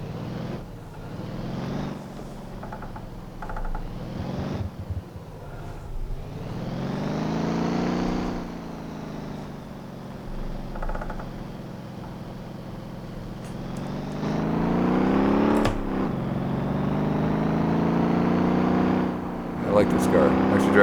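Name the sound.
car driving in a video game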